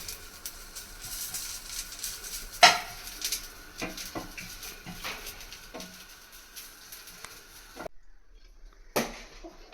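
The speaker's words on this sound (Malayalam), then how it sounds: "വെറുതെ തവയ്ക്കകത്തിട്ട് ഇങ്ങനെ വറുത്ത് മുരിച്ചെടുത്തതാ." Moringa leaves are dry-roasted without oil on a tawa, with steady stirring and scraping of a utensil against the pan, faint crackling and occasional sharper metallic clinks.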